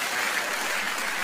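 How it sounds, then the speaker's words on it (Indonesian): Brief burst of dense, full applause from a church congregation, steady and fairly loud throughout a little over a second. "Tepuk tangan buat Tuhan kita yang hebat."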